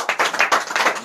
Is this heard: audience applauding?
yes